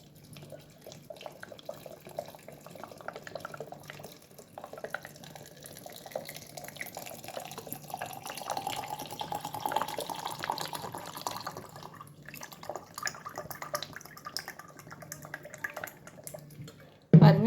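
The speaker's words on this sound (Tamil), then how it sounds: "இப்போது இதில் வந்து தண்ணி ஆட் பண்ணிக்கலாம்" Water is poured steadily into a container of papaya peels for about seventeen seconds, a continuous close splashing and trickling that grows slightly fuller midway, with no talking.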